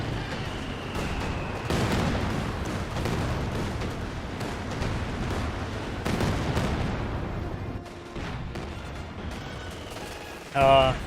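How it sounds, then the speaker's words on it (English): A Katyusha rocket barrage in Company of Heroes 2 rolls in as a sustained rumble of overlapping blasts and crackling impacts, swelling and easing over several seconds amid busy battlefield noise. "We've got the Katyusha Barrage now running on in"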